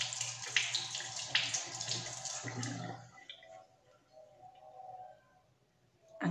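Water runs steadily from a tap while a stick is washed, a close splashing rush for about three seconds that then stops, leaving faint drips and quiet room sound.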